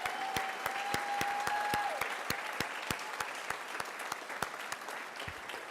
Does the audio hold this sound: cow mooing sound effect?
no